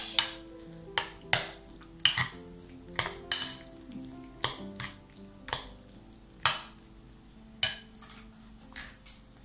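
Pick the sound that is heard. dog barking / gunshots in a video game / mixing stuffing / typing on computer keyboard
mixing stuffing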